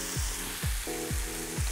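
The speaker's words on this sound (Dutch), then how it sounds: "De champignons voor de saus zijn aan het aanbakken." Mushrooms browning in a pan for a risotto sauce with truffle, a soft steady sizzle with a few quick low stirring thumps, close and quiet.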